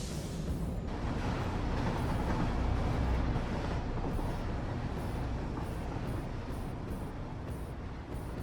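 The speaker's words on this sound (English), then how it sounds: "lucky for us, the train just got back, so it's a free ride" A train in the factory-building game Satisfactory rolls in with a dense, steady rumbling roar that stays loud and continuous throughout, with faint repeated high clicks above it.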